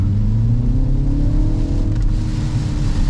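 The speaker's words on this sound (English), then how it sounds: "that 7-speed DCT is immediately going out ahead and shifting for you" A 2025 Mini Cooper S 4 Door with a 7-speed DCT driving down a back road, a steady loud engine drone and road rumble heard from inside the cabin with a slight rising pitch as it pulls.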